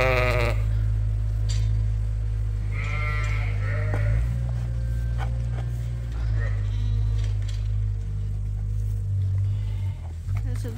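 Sheep bleat repeatedly in a farm pen in wintry, snowy conditions, several close, wavering calls over a steady low hum, with a person talking throughout.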